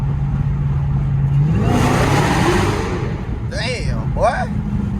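Dodge Challenger Hellcat pulling hard from a roll on a bridge, the engine droning loudly then surging as it accelerates, heard from inside the car with a brief voice near the end.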